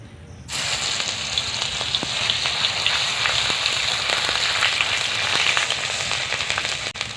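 Garlic paste hitting hot oil with browned sugar in a pan while cooking a Bengali shol fish kalia: a sudden onset of loud, continuous crackling sizzle that stays steady and close throughout.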